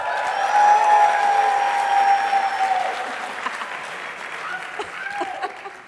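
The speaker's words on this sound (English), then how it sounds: "so you gotta give him an extra clap" Audience applause fills a conference hall at a closing plenary, loud and steady at first, then thinning to scattered claps, with a sustained ringing tone over the early part.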